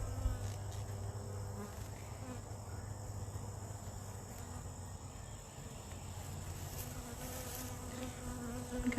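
Honey bees buzz steadily at an open hive outdoors, a dense continuous drone of many insects that stays close and fairly even throughout, with light breeze noise and no talking.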